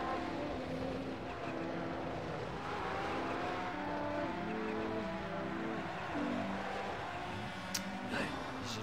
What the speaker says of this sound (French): C'est pour ça que j'ai baissé le son du moteur.